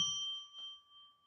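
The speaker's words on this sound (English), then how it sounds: "Let's ring a bell 3 times" A small bell struck once with a clear ringing ding, a bright tone at close range that decays slowly over about a second, with a faint second touch partway through and no talk.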